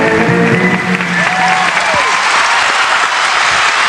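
Steady, loud crowd applause fills the arena after a gymnast's final tumbling run at the 1984 McDonald's USGF American Cup in Indianapolis, with faint voices mixed into the clapping throughout.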